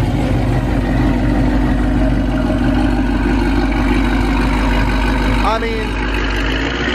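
High-performance cars such as Mustang GT350s, GT500s and Camaro ZL1s rumble at a night car show, a loud continuous low engine drone under nearby conversation, with a brief rising note near the end.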